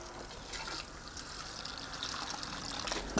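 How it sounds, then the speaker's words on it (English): Water pours from a watering can into a small planting hole for a newly planted cauliflower in a garden bed, making a steady close splashing trickle for a few seconds with no talk. "Just make a little hole in there, give it a good water."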